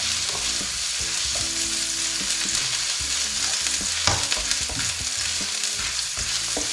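Ginger sizzles steadily in hot oil for pork papaitan, a continuous close frying hiss broken by occasional utensil clinks and stirring scrapes.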